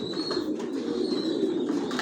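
Steady, overlapping low cooing of many racing pigeons in a loft, a continuous murmur with faint chirps above it.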